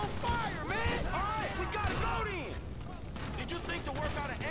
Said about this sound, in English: Didn't expect explosions all of a sudden.